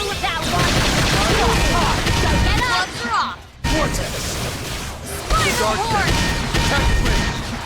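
Battle sounds from the video game Xenoblade Chronicles X: rapid bursts of gunfire, crashes and whooshes in a dense, loud mix, with voices and game music throughout and a brief pause midway.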